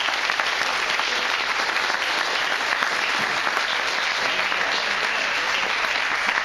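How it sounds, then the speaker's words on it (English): Dense, steady applause from the audience at the Sport Kart Grand Nationals press conference, honoring the top three kart racers and the Masters leader, sustained evenly throughout without talk. "Give our top three and our Masters leader a round of applause"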